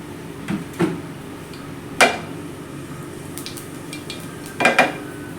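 Mustard, fennel and cumin seeds frying in hot oil for a spicy chapathi veg roll: a quiet, faint sizzle underneath, broken by a few sharp pops and clinks of a spoon or pan, with no talk.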